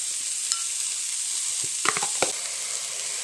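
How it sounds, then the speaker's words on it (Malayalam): Chopped onions salted for chicken curry sizzle steadily as they sauté in a pan, with a few sharp stirring scrapes clustered near the end. "അരിഞ്ഞു വെച്ചേക്കുന്ന സവാള ഇട്ട് കൊടുക്കാം"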